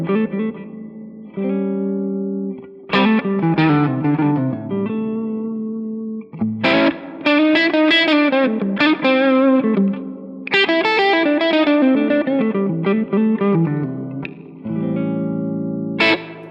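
Distorted electric guitar plays bluesy lead licks and bends over a dominant seventh chord, with effects, chorus and reverb, loud and alone in phrases with brief pauses between.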